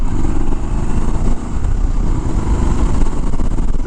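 A 2019 Triumph Scrambler 1200 XE motorcycle engine running in sport mode gives a steady, loud, close-up rumble throughout. The drone stays dense and constant with slight surging, and no one talks over it.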